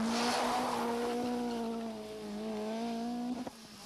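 A 1995 Opel Manta rally car pulls away on a rally stage, its engine note droning steadily and rising, with a loud harmonic whine that holds, dips, then climbs again before a sharp clunk near the end.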